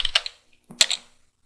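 Keystrokes on a computer keyboard as a terminal command is entered: a quick cluster of clicks, a short pause, then another burst of taps ending on a firmer key press, close and fairly quiet.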